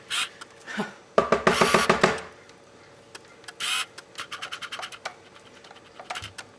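A food processor whirs through hummus in bursts, a loud run of about a second near the start, then shorter pulses and scraping clatter, close by with no talk.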